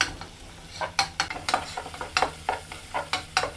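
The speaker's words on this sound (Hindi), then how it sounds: "तो सबसे पहले इसको हम सौते कर लेंगे अच्छा से गोल्डन ब्राउन" Chopped onions sauté in oil and ghee, with a low constant sizzle under regular sharp clinks and scrapes of a spoon stirring the pan, close up and without speech.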